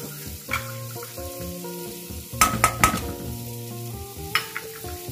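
One medium onion sautéing in butter over the flame, a soft sizzle under repeated clinks and scrapes of a utensil against the pan, with a cluster of sharper knocks in the middle.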